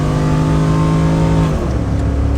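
A cammed 5.3-litre V8 car engine revs loudly and close up with a deep droning exhaust, then the pitch drops as the throttle closes, with a brief exhaust pop.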